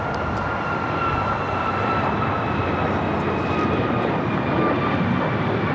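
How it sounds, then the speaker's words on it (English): An airliner takes off from runway 25 right at LAX with a steady, loud jet roar and a sustained whine, alone without talking. "25 right, clear to take off"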